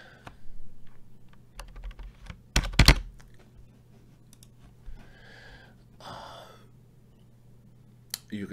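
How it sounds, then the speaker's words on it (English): Quick clicking of keys on a computer keyboard, with scattered taps and a brief burst of faster typing, fairly close over a low background hum. "You can type text."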